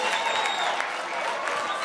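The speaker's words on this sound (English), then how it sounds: "Big roar from the crowd on the straightaway" A large stadium crowd roars and cheers continuously through the closing laps of a women's elite 1500m track final in Montreal, a dense, loud, unbroken wash of noise without pauses.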